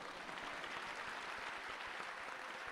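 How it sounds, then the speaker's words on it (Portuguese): An audience claps steadily, a dense, even wash of applause at moderate distance, with no voices over it. "Se quiserem aplaudir as mulheres, fiquem à vontade."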